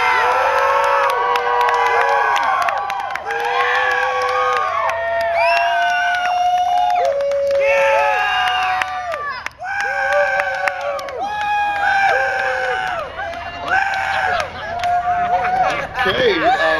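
A loud crowd cheers, whoops and shouts together at a cannabis contest cheer-off, the roar rising in repeated bursts over about seventeen seconds with little pause.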